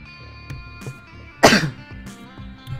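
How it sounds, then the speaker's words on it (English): A single sharp cough bursts out close by midway through, surrounded by quieter clicks and murmured background noise in a burger bar setting. "That was a cough."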